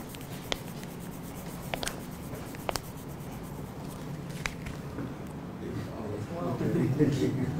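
Marker or chalk scratching across a board in short strokes and taps as a word is written, with people talking in the background.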